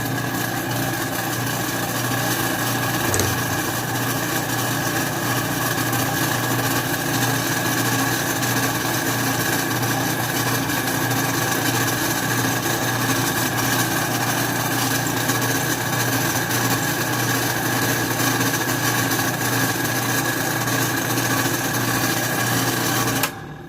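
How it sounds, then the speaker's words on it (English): A metal lathe turns a socket held in the chuck and cuts chips from it, producing a continuous, close, even whirring drone with a faint scrape that runs steadily until it stops at the end. "I have the bit, the socket, locked into the lathe, and let's give it a try."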